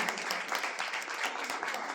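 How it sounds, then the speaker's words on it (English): Audience applause at a school cultural day performance, dense continuous clapping from a crowd, fairly close and even throughout, with no speech over it. "Please give them a big round of applause."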